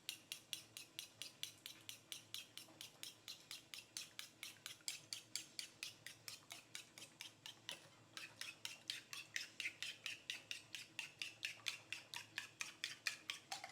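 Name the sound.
beating an egg in a bowl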